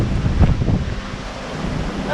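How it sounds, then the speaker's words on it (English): Steady wind rushing and roaring through trees in a valley in the Scenic Rim, a broad blustery noise close to the microphone, gusting slightly with no voices. "And the wind's whistling from that valley over there out into the valley over here."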